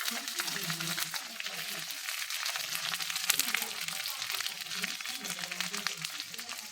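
Bottle gourd pieces fry in a pan with onion and mint, making a constant soft sizzling hiss while a voice talks over it.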